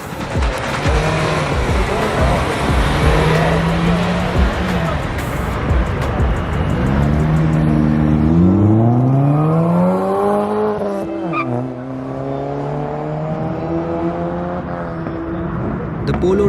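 VW Polo launching down a drag strip on sticky Michelin PS4 tyres, engine note rising sharply through several gears with short dips at each shift, loud and close, backed by steady crowd and track noise at a drag racing event.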